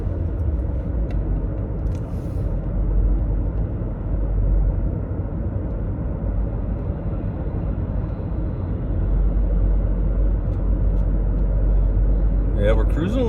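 A car cruises steadily along the road from inside, a constant low engine and road rumble with tire noise, loud and close, with talking over the drone throughout.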